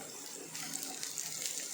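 Water squeezed from soaked soy chunks trickles and splashes faintly in a steady stream, like a running tap, with brief brighter drips near the end; no talking.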